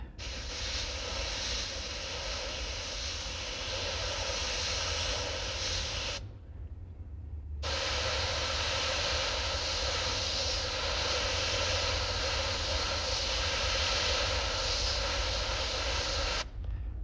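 Airbrush hissing steadily as it sprays paint onto a Halloween monster mask, a loud continuous spray with one brief pause in the middle and a short break near the end.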